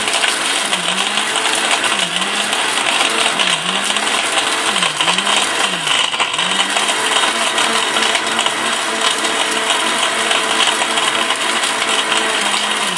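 An electric blender in a home kitchen runs loud and steady throughout, a constant dense whirring roar with a rhythmic wobbling hum underneath and no talk.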